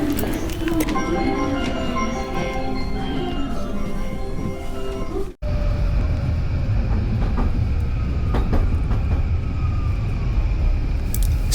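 Tokyo commuter train rolling toward Akihabara station during rush hour, with a steady rumble of wheels and car noise, passing tones and a brief dropout midway, heard from inside the carriage without clear talk.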